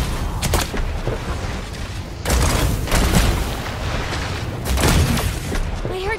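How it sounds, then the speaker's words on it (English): Gunfire in a mobile shooter video game, heavy booming shots coming in three separate loud bursts with a constant din of noise between them. "I heard shots fired."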